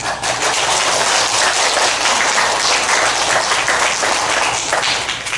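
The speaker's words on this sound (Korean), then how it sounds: "우리 김양옥 교수에게 박수 한번 봅니다" A hall audience at a national youth speech contest gives a professor sustained applause, dense and even throughout with no talking over it.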